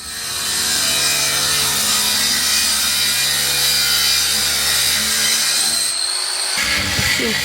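A power saw cuts timber along a marked line on a self-build house, a loud, continuous rasping drone up close that stops abruptly near the end, leaving brief clatter.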